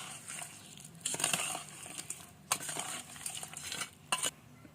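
Mutton pickle (mutton pachadi) is stirred and mixed with a utensil against a pot, giving a few brief scraping clatters and crinkly bursts that come and go, close and fairly quiet, with no talking.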